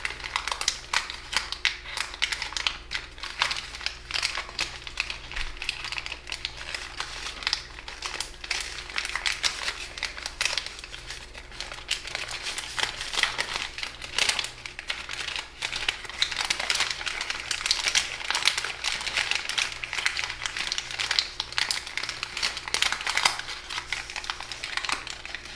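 Paper crinkles and creases in quick irregular bursts as an origami fiddler crab is folded, close and crisp throughout with no talking.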